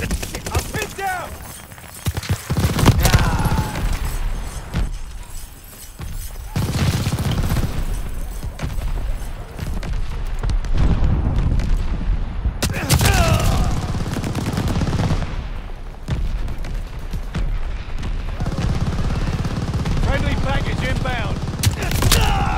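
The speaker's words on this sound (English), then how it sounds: "Calling a mortar barrage." Mortar barrage explosions and bursts of gunfire in Call of Duty Vanguard crash through a loud battle scene, with repeated heavy booms and rattling shots over a continuous din and some voices in between.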